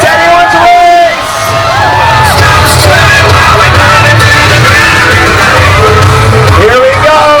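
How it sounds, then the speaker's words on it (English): At a dog show at Calgary's Stampede Park, a crowd shouts and cheers loudly and continuously, with whoops and yells rising over a dense roar and an announcer's voice mixed in. "Yahoos, on the count of 3, give us a big Yahoo."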